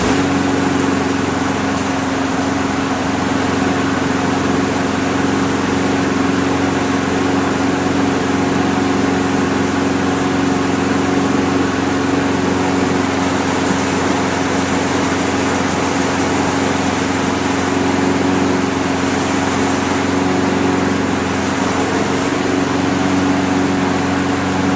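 A lawnmower engine, just given a carb clean, fresh blade sharpening and spark plug check, runs steadily at a loud, even drone close by, continuous throughout with no voices.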